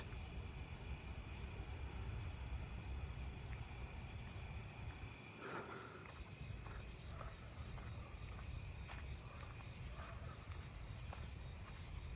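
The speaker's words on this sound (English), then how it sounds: "I'm hearing that black-horned or four-spotted tree cricket." Black-horned or four-spotted tree cricket trilling steadily and continuously through a quiet neighbourhood night, layered with other insect song at low, even loudness; no voices.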